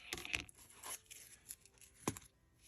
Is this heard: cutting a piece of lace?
yes